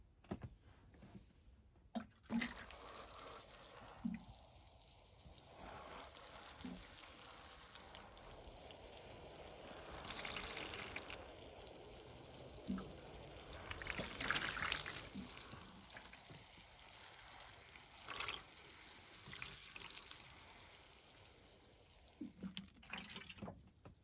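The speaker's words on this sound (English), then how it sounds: "now let's get some water on this" Faint, steady splashing and trickling of water poured onto the soil of a potted acacia bonsai tree, continuing for a long stretch with occasional soft knocks.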